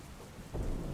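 Heavy rain pours steadily around Mangrol in Junagadh district, Gujarat, with a low thunder rumble rising midway through this brief, fairly quiet moment.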